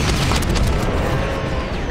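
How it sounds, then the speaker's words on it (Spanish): Cannon shots boom and burst in Plants vs. Zombies: Battle for Neighborville, with dense, overlapping explosive thuds and crackling in a continuous noisy barrage. "cañonazos no revienta"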